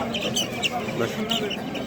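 Chickens and roosters cluck and call at a poultry market in Kırıkkale, with mixed hens and cocks, including İspençe birds, close by under the talk of people bargaining.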